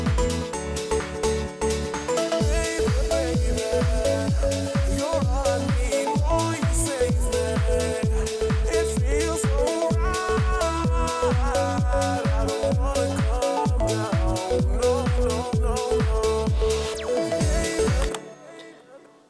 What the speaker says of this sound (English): I just go to the drums, the bass and the organ and a little harp.